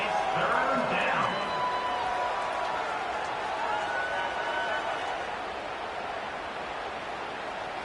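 Football stadium crowd roaring on third down at Auburn against Southern Mississippi, a broad sustained wash of cheering that swells early and then settles into a steady roar.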